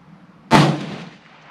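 A single rifle shot at a shooting range, a sharp loud crack followed by a booming decay that fades over about a second.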